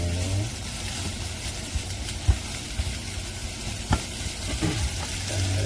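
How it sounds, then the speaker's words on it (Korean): Onions stir-frying in a pan for Korean-style curry: a continuous close sizzle with scattered spatula scrapes and taps, no voices. "양파가 숨이 좀 죽으면서 살살살살 색깔이 올라오고 있네요"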